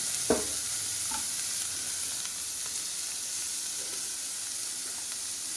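Cucumber fries in a little oil with panch phoron, a dense steady hiss and sizzle close up, with a brief knock at the start and light stirring clicks.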